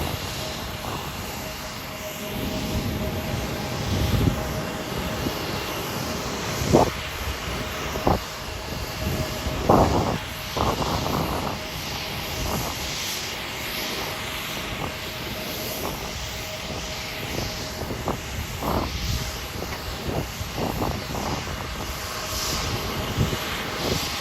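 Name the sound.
Alaska SkyWest aircraft taxiing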